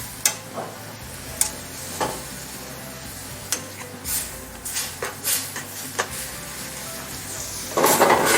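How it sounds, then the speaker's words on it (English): Shrimp sizzle steadily in a hot pan while a utensil stirs and scrapes them, giving irregular sharp clacks over a constant frying hiss, close and fairly loud. "Turn the heat up. Turn the shrimp around in that."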